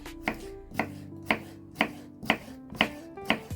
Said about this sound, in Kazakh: Қиярымызды турап аламыз.